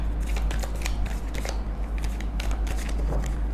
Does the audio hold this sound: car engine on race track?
no